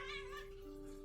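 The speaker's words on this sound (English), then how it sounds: "The kitties, they're so cute." A cat's short wavering meow rises over a steady electronic hum, brief and faint.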